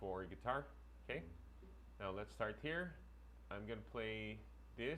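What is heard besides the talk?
No distinct noise like a dog, phone or traffic.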